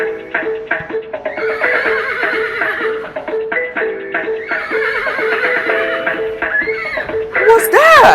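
A horse neighs and whinnies loudly and close, the calls repeating over several seconds with hoof clip-clops mixed in and a sharp whinny near the end.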